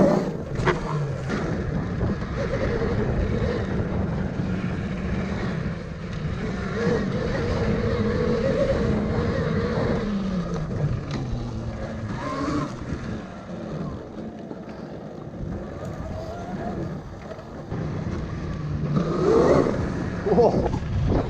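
A Velimotor VMX12 electric motorbike climbs hills with a low, steady whine under heavy wind rumble, the rider's voice occasionally heard over it.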